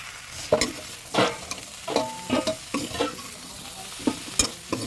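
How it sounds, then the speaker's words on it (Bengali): Potatoes frying in oil in a pan, heard as a steady sizzle with repeated loud spatula scrapes and clanks in an irregular stirring rhythm, close and without speech. "তারপরে আমি আলুটাকে ভাজবো।"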